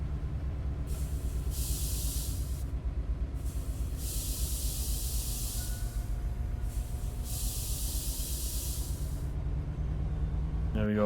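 Air brakes on a Metrolink F59PHR locomotive in Train Sim World 5, three long bursts of hissing air release over a low steady engine rumble in the cab.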